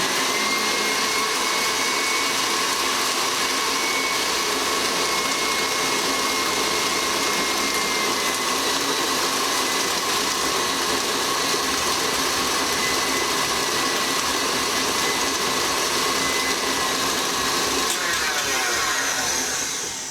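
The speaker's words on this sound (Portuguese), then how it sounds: "volta com a batedeira pro lugar, volta para a batedeira e bate novamente" Electric stand mixer beating butter biscuit dough for decorated cookies, a steady loud whirring motor hum that runs without a break, with no talk.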